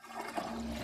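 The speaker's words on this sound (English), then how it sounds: "Every flush spews bacteria onto surfaces that little Bobby touches" A toilet flush roars steadily in a TV advertisement, a continuous rushing of water that fills the short moment without any talking.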